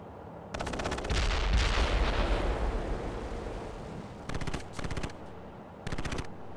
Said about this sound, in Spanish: Objetivo marcado, comenzando fuego de artillería.